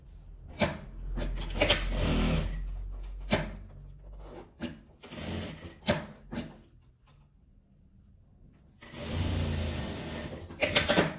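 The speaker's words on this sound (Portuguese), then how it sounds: "agora eu vou rebater a costura" Sewing machine topstitching a seam on lining fabric, heard as several bursts of motor whirring broken by pauses, clicks and fabric handling, with a longer steady run near the end.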